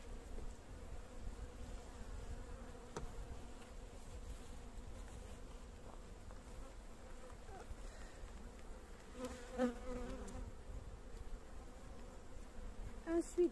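Honeybees hum steadily around an opened hive in an apiary, a dense, continuous buzz close by that holds throughout with a few louder passes near the end.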